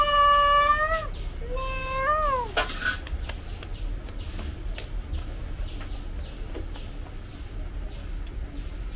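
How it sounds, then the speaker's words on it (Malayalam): A cat meows several times in a home kitchen, the first calls drawn out and falling, the next shorter, then a sharp burst, loud and close, before quieter background clatter takes over. "പൂച്ച"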